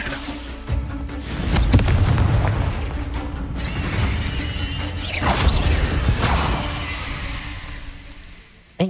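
A Confringo blasting curse goes off in Hogwarts Legacy as a deep rumbling boom followed by crashing debris and whooshing magical effects, loud and sustained for several seconds.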